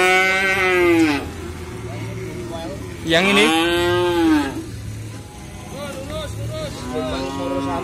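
Simmental cattle at a morning livestock market in Muntilan, with two loud, drawn-out moos close by and a fainter call after, someone speaking briefly between them.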